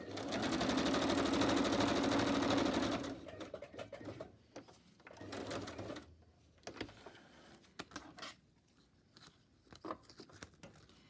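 A sewing machine stitches a pocket for a handmade journal in a steady, loud run for about three seconds, then stops, leaving quieter handling clatter and small scattered taps.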